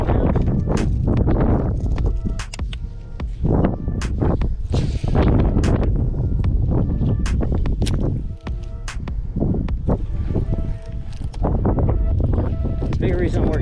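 Strong wind buffeting a microphone outdoors on a fishing boat, a steady loud rumble with gusty surges and scattered knocks and rattles throughout.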